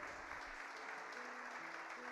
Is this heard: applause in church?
yes